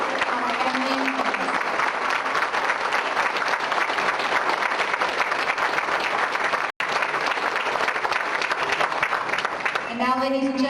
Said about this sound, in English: please join me in a round of applause for our drill instructors, our recruiters, and our family and friends